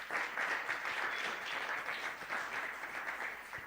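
A church congregation at a Sunday praise service applauds and cheers for Jesus, steady, dense clapping heard at a distance and fairly faint, with no break.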